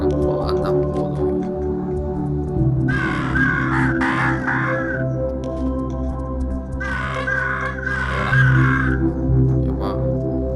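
Crow cawing in the Monument Valley video game, two bursts of repeated harsh caws standing out over steady background game music.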